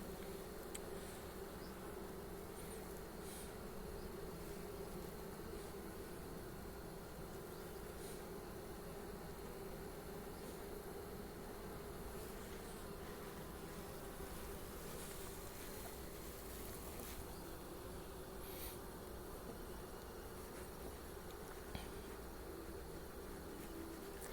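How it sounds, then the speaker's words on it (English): Honey bees swarm in a dense, steady buzz around an opened beehive, a close and continuous drone that holds level throughout with no talking. "got a bee attacking my phone"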